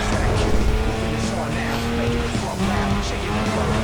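A Mazda X7 race car from Need for Speed Most Wanted (2005) speeds along under a loud engine whine, with some tire noise and a voice talking over it.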